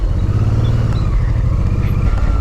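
A Honda Transalp 650 motorcycle stuck in a muddy forest ditch, its engine revving loudly and close with a rough, throbbing low drone and clattering as it strains to pull free.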